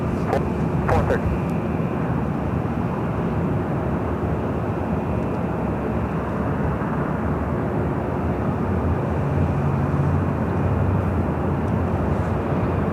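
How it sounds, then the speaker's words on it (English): An Emirates Airbus A380 passenger jet at Los Angeles airport, its engines producing a broad, steady roar that holds at an even loudness throughout, with no voices. "It's an 8-year-old A380 Super delivered to Emirates in May of 2016"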